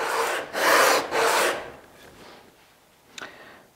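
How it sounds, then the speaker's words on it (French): A wooden hand plane's sole rubbed over abrasive paper in three strong back-and-forth strokes, then a quieter scrape and a small tap. "un passage sur l'abrasif peut m'assurer que j'ai bien, on va dire, poncé l'ensemble de la semelle"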